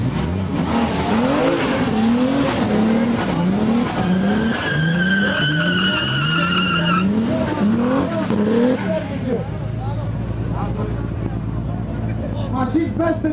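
BMW race cars, including a turbocharged E30 M5, skid with long rising and falling tire squeals and engine roar at a motorsport event, loud and close, with an announcer talking over the cars before they fade out.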